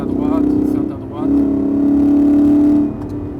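A Ford Mustang V8 on the Folembray circuit accelerates gently, its deep, steady engine drone swelling slightly partway through and holding a smooth, sustained tone heard from inside the car.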